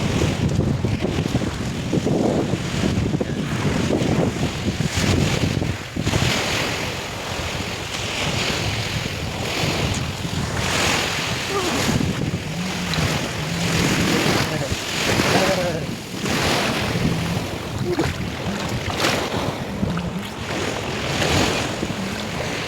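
Ocean surf rolls steadily onto a beach in Lobo, Batangas, with a continuous wash of breaking waves and heavy wind buffeting the microphone throughout.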